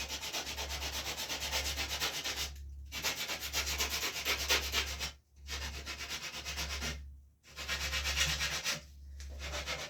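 A wooden block rubs back and forth over the rawhide backing of a paddle bow, sanding in long rasping strokes broken by brief pauses, steady and close.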